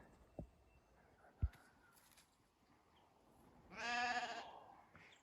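A grazing sheep gives a single clear bleat out in an open field, moderately distant, after a couple of faint knocks in quiet surroundings.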